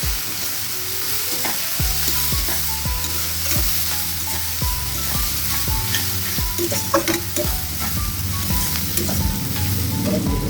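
Onions fry and sizzle in a pan for Bengali yogurt katla curry, with a steady close hiss and a regular series of scraping stirs, some louder clatter near the end; no talking.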